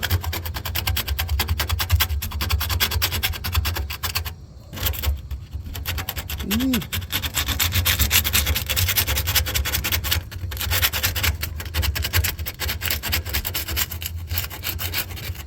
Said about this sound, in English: I'm going to try to scuff around it a little bit